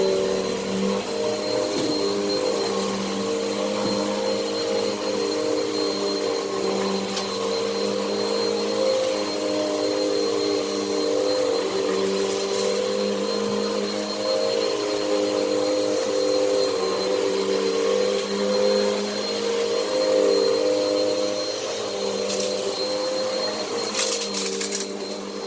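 A Bissell CleanView OnePass 9595 upright vacuum runs steadily over natural plush carpet, a loud constant motor whine and hum with occasional crunchy crackles of debris being sucked up.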